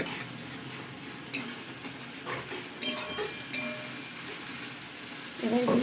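Onion, green chili and tomato fry in a pan for a spicy fish curry, a steady soft sizzle with occasional stirring scrapes, close and moderately quiet, with no talking.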